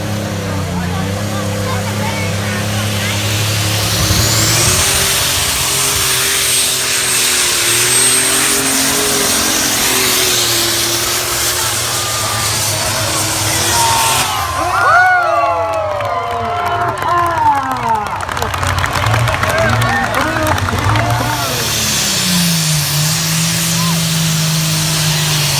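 A pulling tractor roars through a run at a county fair tractor pull, with a loud, sustained engine howl that rises and shifts in pitch over a cheering crowd, while an announcer talks over it.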